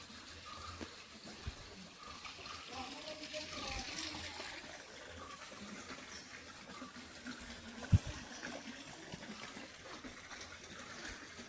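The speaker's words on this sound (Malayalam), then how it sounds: "ആ വെള്ളം തന്നെയാണ് ഇവിടെയും വന്ന് നിറഞ്ഞുകൊണ്ടിരിക്കുന്നത്" Mountain water runs down into a temple pool in Kasaragod, Kerala, making a soft, continuous gush of filling water, fairly faint and distant, with a single sharp knock near the end.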